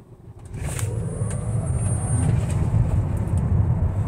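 A 2022 Tesla Model Y Performance electric SUV accelerating hard from a stop, heard from inside as a low road and motor rumble that swells steadily, with faint high whine above it.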